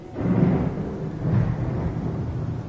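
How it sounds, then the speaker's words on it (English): Thunder rolls outside during a thunderstorm with lightning, a deep continuous rumble that swells twice, heard alone without voices. "it's thundering and lightning out there"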